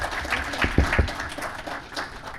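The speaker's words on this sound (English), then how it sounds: "Another round of applause." A live audience at a security conference session claps steadily in a busy, continuous wash of applause that fades slightly toward the end.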